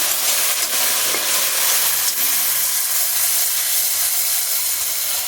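Spice paste frying in a wok, a steady, close sizzle and hiss running unbroken throughout with no voices.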